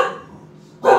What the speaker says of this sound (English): Barking dog wants some wings.